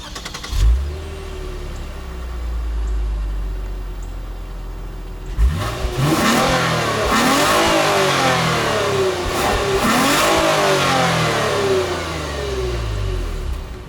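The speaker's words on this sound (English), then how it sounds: "I'll let you guys hear what that V6 sounds like real quick" A 2019 Lexus IS 350 F-Sport's 3.5-liter Toyota V6 engine starts and idles low, then revs up repeatedly in rising and falling surges, loud and close, with no talking.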